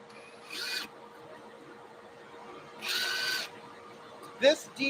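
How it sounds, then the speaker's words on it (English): A DeWalt 90-degree drill works on tank molds in two short whirring bursts close by, the second longer, followed by a couple of sharp clicks over a low hum. "This DeWalt 90-degree gizmo is a complete lifesaver for doing these molds."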